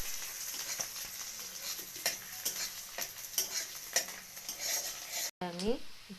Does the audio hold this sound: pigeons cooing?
no